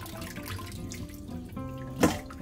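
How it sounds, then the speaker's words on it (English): Water squeezed out of washed, salted mustard greens by hand for Lao pickle, giving soft wet dribbling and one sharp splash near the end. "Now take it out and squeeze this water out."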